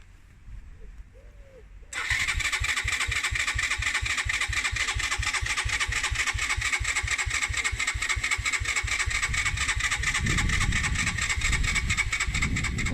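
A Suzuki GN125 motorcycle engine with the choke on cranks continuously for about eleven seconds. It gives a loud, steady, rapid starter chug close up, and a voice briefly comes in near the end.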